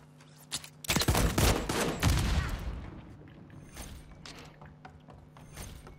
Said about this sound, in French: c'est le fusil à pompe, là